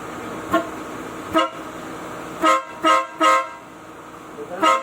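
Newly fitted MARCO horns wired with a Stingray harness on a Mitsubishi Xpander Cross sound in several short, loud, close blasts, two spaced singly and then a quick cluster, with faint voices in the background.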